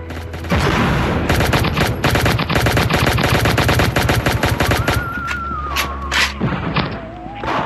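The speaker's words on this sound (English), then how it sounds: "someone's shooting at me" Sustained automatic gunfire from the mobile shooter game Pixel Gun 3D, loud and rapid bursts filling most of the stretch, with electronic game tones rising near the end.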